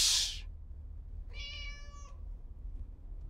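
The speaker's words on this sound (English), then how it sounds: "I'm telling you, man, there's a cat in your car." A single cat meows inside a taxi, a clear, tonal, mid-length call rising out of the low engine hum of the car, after a short sharp noise at the very beginning.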